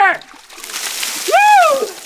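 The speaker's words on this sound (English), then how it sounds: "Giant bucket of ice water!" A giant bucket of ice water is dumped over a person during an ice bucket challenge. A brief splash and slosh sits between loud shouted voices.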